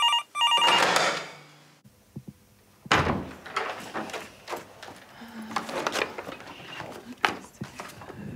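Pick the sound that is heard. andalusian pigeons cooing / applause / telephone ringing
telephone ringing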